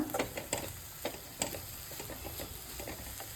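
Banana flower and grated coconut being stirred in a pan for a Tamil poriyal, with a soft steady sizzle and repeated scraping strokes of a spoon, close and fairly quiet, with no talking.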